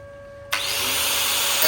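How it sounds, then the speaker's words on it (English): A power tool trims the rear wheel arch of a GTS Monaro. It starts abruptly and then runs as a loud, steady, close cutting whine until the end. "We've got to trim this wheel arch off."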